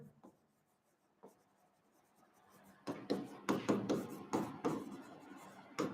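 Pen or chalk writes during a NEET physics class, with a few faint isolated strokes at first, then a close, rhythmic run of scratchy writing strokes.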